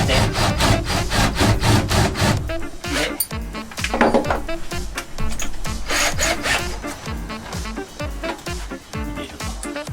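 A drill bit wider than the screw head grinds a countersink into wood in repeated short bursts, loud and close, with a rough rasping texture and brief pauses between passes.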